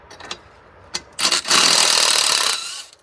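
A 13 socket wrench works truck air intake bolts: a few sharp clicks, then a loud, sustained ratcheting buzz for about a second close to the microphone before it fades.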